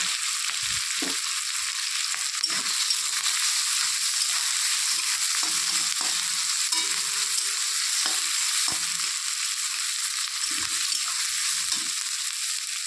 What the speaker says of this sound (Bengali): এখন তেলের মধ্যে দিয়ে দেব কেটে রাখা পেঁয়াজ আর কাঁচা পাকা লঙ্কা। পেঁয়াজগুলোকে একটু লাল লাল করে ভেজে নেব।